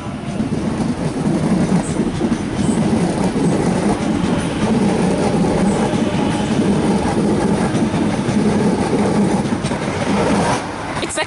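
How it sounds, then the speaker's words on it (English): A Sydney A set electric train departs Milsons Point station, a steady rolling rumble with wheel clatter and faint squeals, moderately loud and continuous before easing near the end. "T71. Penrith service, departing platform number 1."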